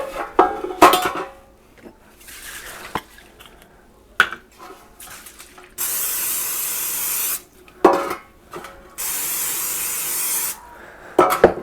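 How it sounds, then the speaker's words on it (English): Cooking spray hisses onto metal bread pans in two long steady bursts, close and fairly loud, with sharp clinks and clatter of the pans being handled in between. "spray them with some cooking spray"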